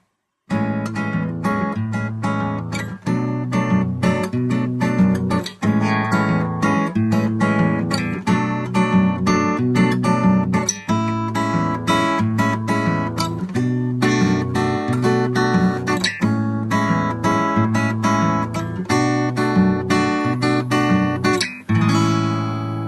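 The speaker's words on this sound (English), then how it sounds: "we're going to look at a basic samba fingerstyle pattern which sounds something like this" Steady samba fingerstyle pattern on acoustic guitar, bright plucked chords and bass notes in a lively syncopated rhythm, played continuously and close.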